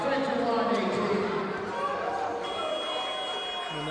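The end-of-quarter buzzer sounds at an NBL playoff semifinal basketball game between City Oilers and Rezlife Saints, a steady tone in the second half of the clip under loud crowd noise and a commentator talking.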